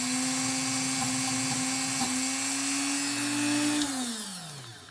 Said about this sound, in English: And my Dremel